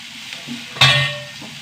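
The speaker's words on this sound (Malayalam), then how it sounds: "നമ്മൾ ഉരുളക്കിഴങ്ങ് നന്നായി വഴണ്ട് വരട്ടെ" Potatoes sautéing in a pan for a Kerala-style curry, a soft steady sizzle that swells suddenly into a louder hiss and scrape as they are stirred, then settles back down.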